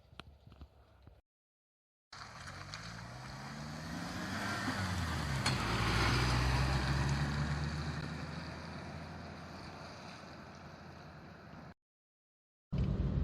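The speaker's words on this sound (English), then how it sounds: "So we're now driving the Jimny, and it is a really fun experience." A 2004 Suzuki Jimny 1.3 JLX on the move, its engine droning steadily with rising and falling pitch as it gathers speed, loud and continuous with road and wind noise, brief breaks at start and end.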